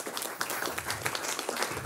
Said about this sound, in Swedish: Och en applåd där också på sin plats